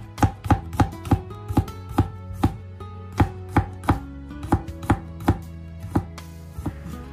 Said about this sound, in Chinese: 再将大蒜改刀切成薄片